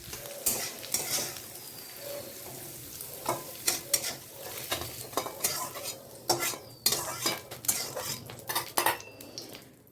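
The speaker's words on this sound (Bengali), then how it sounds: "চালটা ভেজে তুলে রাখবো একটা বাটিতে" Uncooked rice dry-fried in a pan for a banana-stem recipe, with a metal spatula repeatedly scraping and clattering against the pan over a soft sizzle, the strokes in uneven bursts growing busier toward the end, close and fairly loud, no voices.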